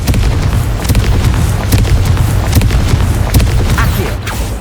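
Confringo spell explosions and magical combat effects in the Hogwarts Legacy video game, a dense, loud, continuous barrage of booms and crackling impacts layered with sharp bursts throughout.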